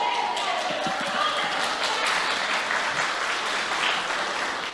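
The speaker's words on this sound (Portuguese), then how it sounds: "Suas palmas não me motivam a pregar, mas me deixam feliz" Dense, steady clapping from a church congregation during a sermon fills the space, loud and continuous throughout.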